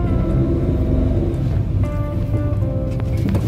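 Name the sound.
2015 Daihatsu Ayla Type M car driving in reverse gear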